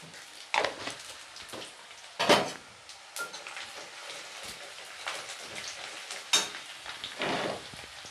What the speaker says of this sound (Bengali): পেঁয়াজটা ভাজা হয়ে গেছে, একটু পাঁচফোড়ন দিয়ে দিচ্ছি।